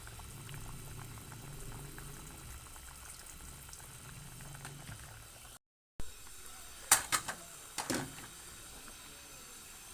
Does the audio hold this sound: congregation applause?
no